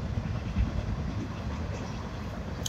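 A CSX freight train rumbles past nearby with a steady, heavy low roar and faint rolling clatter of rail cars, continuing throughout without voices.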